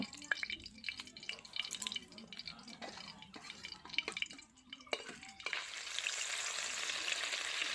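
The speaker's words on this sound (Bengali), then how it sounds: "বাকি মাছগুলো ভেজে নেব" Quiet sizzling with scattered clinks and taps, then a steadier, brighter crackle of fish frying in hot oil toward the end.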